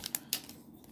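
Magic card booster pack being torn open, a brief close crinkle of foil wrapping with a few sharp tearing snaps.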